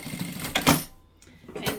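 A sewing machine stitches fabric along a curve, a brief close whirring hum in short bursts with a pause in the middle.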